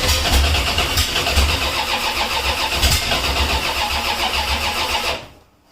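A hot rod car engine fires up and runs with a loud, pulsing, rough idle, steady for several seconds before cutting off abruptly at the end.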